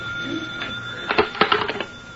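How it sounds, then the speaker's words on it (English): A telephone bell rings in a radio drama office scene, a buzzy ring with a steady tone and then a cluster of clattering rings, fairly loud and alone with no voices. "The telephone was ringing as I came in."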